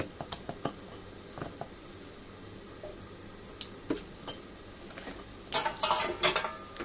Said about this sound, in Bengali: এখন আমি একটা প্লেটের সাহায্যে ঢেকে দিব